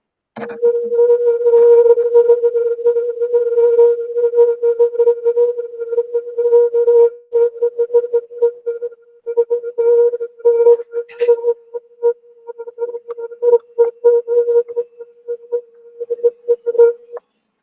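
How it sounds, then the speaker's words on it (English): A steady low humming tone, a recording of the Earth's sound, drones on, stuttering into choppy, broken bursts in the second half, with a brief crackle partway through. "I'm now going to play you the sound of earth."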